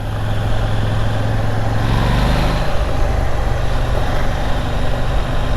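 A KTM 890 Duke R motorcycle trundles along in third gear at about 25 mph in street mode, its engine a loud, steady low drone that holds without revving.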